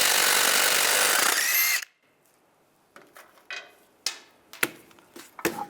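Power tool spinning the last wheel bolt off a VW Jetta, whirring loudly for about two seconds and then stopping, followed by several sharp clinks and knocks.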